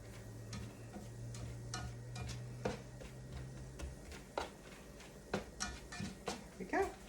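Shredded Brussels sprouts and minced green onions sizzle softly in a pan, with scattered stirring clicks and scrapes growing more frequent toward the end over a faint low hum.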